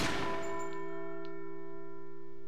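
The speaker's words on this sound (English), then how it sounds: "Let me see if I can ring the bells by shooting them." A church bell in Resident Evil 4 rings once when struck by a gunshot, a sharp clang followed by a long, sustained metallic ring that slowly fades with steady overtones.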